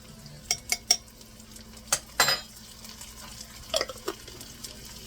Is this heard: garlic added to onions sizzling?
yes